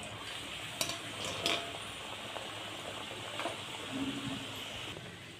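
Khoya rolls frying in hot oil in a pan, a steady soft sizzle and bubbling throughout with a few faint clinks as pieces are added.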